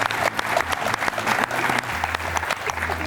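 A studio audience applauds the winning team at the end of a book quiz game show, with dense, steady clapping that stays loud for the whole stretch.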